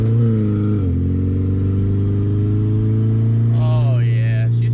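Corvette V8 engine running steadily with a deep, loud idle drone, then a brief rising rev near the end as the car pulls away.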